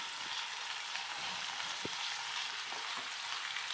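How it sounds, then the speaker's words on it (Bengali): Chopped onion sizzles in hot oil for a mustard chicken curry. The frying hiss is soft and steady, with a few small pops and one brief tap. "তেলটা গরম হতে আমি কুচি করা পেঁয়াজটা দিয়ে দেব।"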